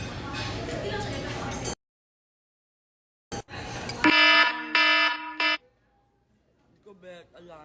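A harsh, buzzing electronic alarm tone blares in a few loud bursts, each separated by a brief gap, then cuts off abruptly. Chatter and noise come before it, and a faint voice follows.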